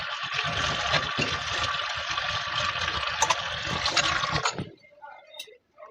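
Water gushes into a pan of cooking masala for egg curry, a steady rushing pour that is close and loud for about four and a half seconds before it stops abruptly, leaving faint kitchen noise.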